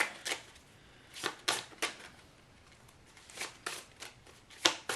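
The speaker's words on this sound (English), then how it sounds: "I'll keep shuffling more as I focus on the question" A deck of Minchiate tarot cards is shuffled by hand, giving faint, irregular riffling bursts spaced a second or so apart against a quiet background.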